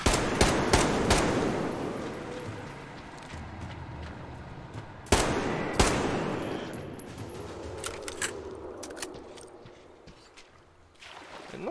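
Dense gunfire in Metro Exodus, a few sharp loud shots over a constant rumbling ambient wash and scattered smaller bangs, fading toward the end with no voices.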